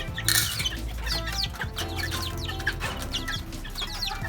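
Chickens at a feeder inside a coop cluck and chatter continuously, several birds close by, with soft pecking and scratching underneath and no talking.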